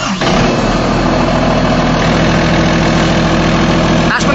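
A Caterpillar 320CU excavator engine, under hydraulic and electrical troubleshooting, cranks and catches, then settles into a loud, steady diesel idle close by with a deep rumble throughout.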